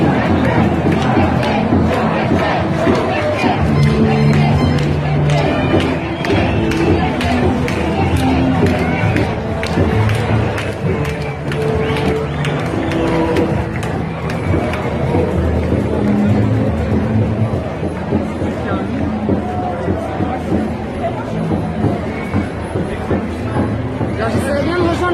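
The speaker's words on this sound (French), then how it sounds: "Regardez ce foule, nom de Dieu." A loud street demonstration crowd on 17 July 2021 in France keeps up dense chanting and shouting, a continuous close roar of many voices with rhythmic calls throughout.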